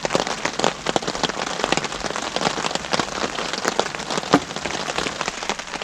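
Heavy rain drumming steadily on a car roof during car camping, a dense continuous patter with sharper individual drops popping through, close and loud throughout with no talk.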